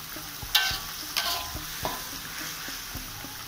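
Shallots fry in hot oil in a pan with a steady sizzle, while a spatula stirs and scrapes in repeated knocks at a close distance.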